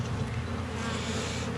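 Honey bees fly in dense numbers around an open beehive during a spring inspection, producing a loud, continuous, close buzzing drone with no talk.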